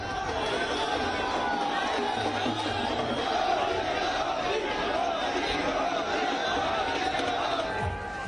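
Dense crowd noise at CM Yogi's road show during Rajasthan election campaigning, a continuous roar of many voices and shouts with chatter mixed in, steady and loud throughout.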